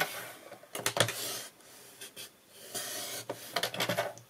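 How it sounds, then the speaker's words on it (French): A massicot paper trimmer cuts straight lines through paper for a craft album, making several short, close scraping and sliding strokes in bursts separated by brief pauses. "je vais prendre mon massicot lui fait des traits droits"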